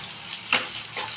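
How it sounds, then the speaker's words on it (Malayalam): Onions sauté in a hot pan for a green peas curry, a steady close sizzle with a sharper hiss burst midway as they are stirred. "ആദ്യം ഉള്ളി വഴറ്റി അല്ലേ?"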